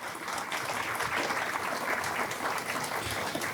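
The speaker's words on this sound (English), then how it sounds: "Let's give Wellington a round of applause." A memorial gathering audience in Colorado gives a steady round of applause for a former mayor, dense and even clapping from a sizable crowd, moderately distant and sustained throughout with no talking over it.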